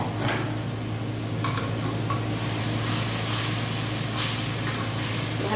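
Food stirred in a pot after water has been added, a soft continuous sizzle and bubbling with a few light scrapes and clinks of a utensil against the pot.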